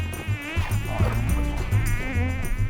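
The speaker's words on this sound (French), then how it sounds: "Comment ça se fait qu'il y ait autant de moustiques?" A dense swarm of mosquitoes on a French overseas island, a loud, close, continuous high whine with overlapping wingbeat tones and low rumbling handling noise underneath.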